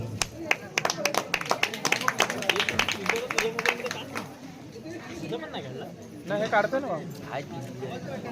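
An audience at a school prize and felicitation ceremony claps in a brisk, close burst of applause that fades after a few seconds, then a voice speaks over light crowd murmur.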